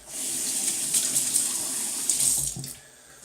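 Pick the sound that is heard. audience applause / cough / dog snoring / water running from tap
water running from tap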